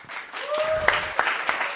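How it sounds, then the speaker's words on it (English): A studio audience claps in scattered, uneven applause while a voice talks and a few sharp individual claps stand out. "give a warm round of applause for T.W."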